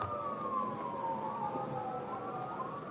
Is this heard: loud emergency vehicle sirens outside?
yes